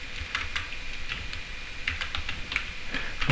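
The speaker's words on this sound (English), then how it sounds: "you press Enter key on your keyboard" Fingers type on a computer keyboard while entering a search query, a close run of quick irregular key clicks with a slightly heavier press near the end, no talking.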